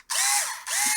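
A small two-speed cordless drill driver running in two close bursts, a high whining motor that winds up quickly, dips briefly, then spins up again, loud and near with no talk.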